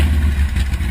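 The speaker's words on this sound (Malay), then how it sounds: "Tengah tunggang motosikal, tengah bergerak perlahan-lahan." A motorcycle engine runs as the bike is ridden slowly at night, a loud, close, steady rumble with a continuous mechanical drone and slight fluctuations throughout.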